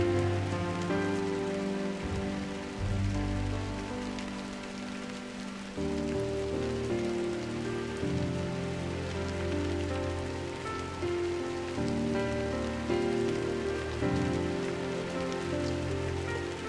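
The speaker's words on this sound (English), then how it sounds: "I woke to a morning of light drizzle" Light drizzle in the video game Drizzlepath: Genie, a steady, fairly loud patter of rain on surfaces that continues without break, with faint tonal music layered underneath and no voices.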